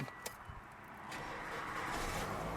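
A 2013 Toyota Vios 1.5 automatic engine cranks briefly with a few clicks, then catches and settles into a low, steady idle rumble.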